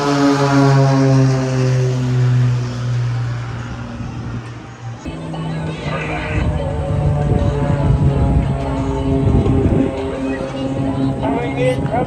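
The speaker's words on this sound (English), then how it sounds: "Doing the incredible barrel roll with formation." Blue Angels jets performing a formation barrel roll at an airshow, a loud sustained engine roar with wavering tones that swells and shifts midway, with voices talking over it.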